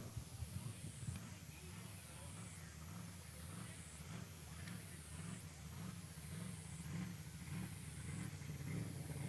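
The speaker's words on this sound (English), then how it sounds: "as we hear them revving up" Engine of a pro racing boat revving on the water during a STIHL racing qualifying event, a steady loud roar with repeating sweeping rises in pitch.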